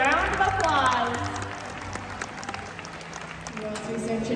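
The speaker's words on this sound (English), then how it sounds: "Why don't you give our audience volunteers a round of applause?" An audience applauds at the SeaWorld San Antonio Orca Encounter killer whale show, a steady wash of crowd clapping that carries through the whole stretch beneath a loud announcer's voice.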